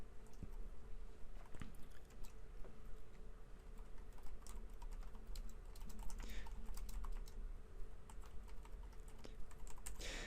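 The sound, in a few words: typing on a computer keyboard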